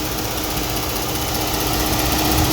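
A car engine runs steadily during an under-hood repair of previously taped, bare wiring, giving a continuous close, loud idling drone with no pauses.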